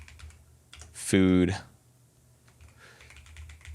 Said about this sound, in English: And you can see I'm just typing in the number with no comma.